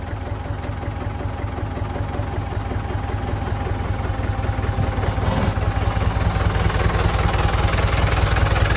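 A Ford 6640 tractor with a freshly rebuilt engine idles steadily and close by, a continuous low, throbbing rumble with a slight knock. It runs alone without talk.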